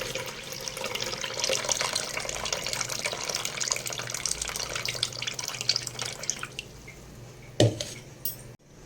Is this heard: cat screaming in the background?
no